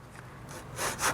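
A handsaw cuts a straight line through wood while a ruler is being made, giving a close, steady rasp of strokes that swells louder over the final strokes.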